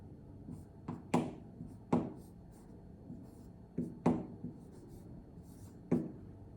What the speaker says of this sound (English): so we're going to write